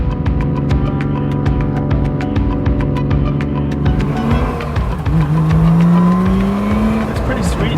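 Engine of a grocery-getter drift car droning steadily while driving, with a rising tone near the end as it accelerates; someone talks over it.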